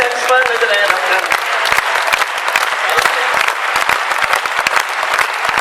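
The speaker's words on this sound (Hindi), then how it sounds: "आप भी तालियां बजाओ" An audience bursts into loud, sustained applause after a sung verse of a patriotic poem at a Hindi poetry recital, dense clapping that runs the whole time with a fading held note at the start.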